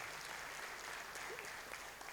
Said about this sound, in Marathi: विनायकसाठी टाळ्या वाजवायच्या आहे.